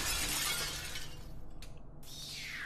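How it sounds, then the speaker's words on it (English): A glass pane shatters in The Fall video game, a bright crash followed by a spray of tinkling fragments that trails off, then a second sharp burst of breaking glass, fairly loud and with no talk. "Glass plane, fragile."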